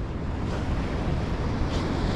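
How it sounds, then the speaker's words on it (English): Big ocean waves crash onto a South African beach in sea too rough to launch boats, heard as a constant, loud roar of surf with strong wind rumbling across the microphone. "Have a look at these waves, Dick."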